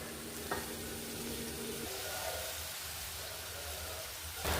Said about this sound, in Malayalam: അങ്ങനെ ഇതാ നമ്മളെ ചെമ്മീൻ നന്നായിട്ട് ഫ്രൈ ചെയ്തെടുത്തിട്ടുണ്ട്.